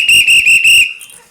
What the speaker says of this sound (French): Oh, mon sifflet. Ouais, mon sifflet.